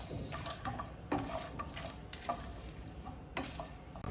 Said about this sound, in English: There goes the sesame and the ginger and garlic. And let's dry roast these.